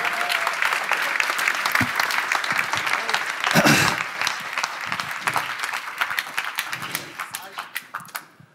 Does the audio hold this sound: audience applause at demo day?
yes